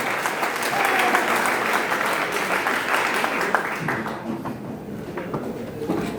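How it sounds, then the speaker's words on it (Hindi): An audience at a seminar in Umarkote, Odisha applauds to welcome a speaker, loud close clapping swelling early and then gradually thinning toward the end, with faint voices beneath. "सर के स्वागत में जबरदस्त तालियां और सम्मान"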